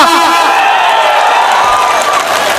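A large crowd at a political rally in Bengal cheers and claps loudly in a continuous roar with whoops, filling the whole brief moment.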